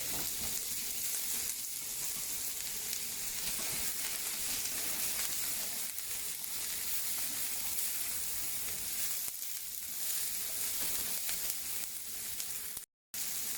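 Red and green peppers with olive oil sizzle and fry in a pan as the base of a paella, a steady, dense crackle that runs on without pause and close up, with no voices.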